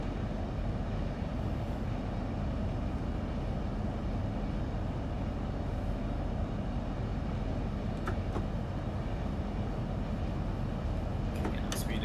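A GWR Class 800 high-speed train in the game Train Sim World 2 gives off a steady, loud rolling rumble throughout, with a few faint high clicks near the end.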